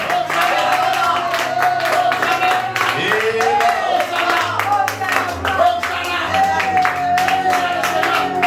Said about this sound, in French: Donne l'acclamation au Seigneur